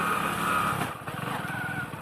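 A motorcycle rides off on a farm errand to fetch cattle fodder, its steady engine drone continuous and fairly loud throughout, with a slight dip and rougher pulsing midway as it pulls away.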